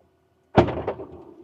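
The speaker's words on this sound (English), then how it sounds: "Door opens," Door of a VW ID. Buzz Level 4 autonomous robotaxi opening at the end of a ride: a sudden near mechanical thunk after silence, then a short whirring, settling motion that fades.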